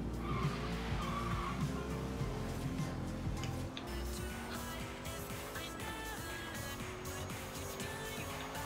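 A Mazda RX7 Hoonigan drifts in Forza Horizon 3, tires skidding and squealing over a roaring engine, loud and continuous with a brief shift in tone midway, no speech.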